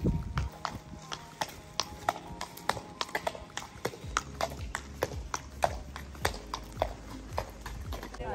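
A horse's hooves clip-clop in a steady, fairly close rhythm while it is ridden at a stable, with people talking quietly in the background.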